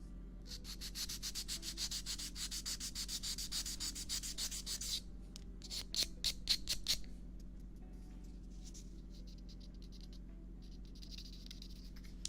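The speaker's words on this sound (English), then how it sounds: "I'm gonna try and sand the legs off because they're here and they need to be sanded" Plastic model legs being sanded by hand, a fast rhythmic rasping scrape in close strokes for several seconds, then shorter bursts and quieter intermittent rubbing, no talk.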